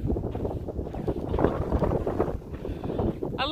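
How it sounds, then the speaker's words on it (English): Strong gusting wind buffeting the microphone on a hike along the Pacific Crest Trail, a steady low rumbling roar that swells and eases over a few seconds. "It's super windy!"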